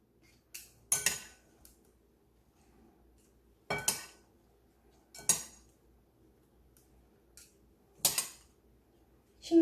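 Romaine Caesar salad is transferred into a serving bowl with utensils, producing sharp metal-on-dish clinks and scrapes in several separate pairs spaced a few seconds apart, close and fairly quiet, with no talk.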